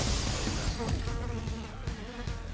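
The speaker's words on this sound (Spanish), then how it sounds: "¡Maldita mosca!" A fly buzzes in Persona 5, a close, continuous insect drone over game music and effects.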